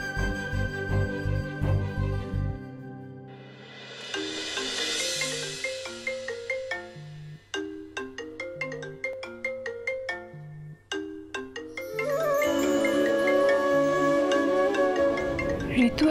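A mobile phone ringtone plays a melodic electronic tune in an indoor home, with repeating tonal phrases over a low background hum. It rings loud and close for the whole stretch, with no voices.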